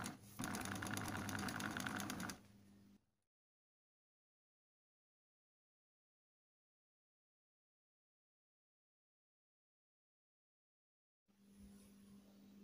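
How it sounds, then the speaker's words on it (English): A sewing machine runs a zigzag seam on boxer shorts in a loud, fast, close mechanical whir for about two seconds. It then stops into long silence and briefly starts again more faintly near the end. "Kiri kanan kita jahit zigzag lah."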